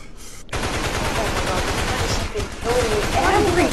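Gunfire in a Call of Duty zombies-style video game with shots going through fences: steady, rapid automatic fire running almost the whole time after a sudden start, loud and close.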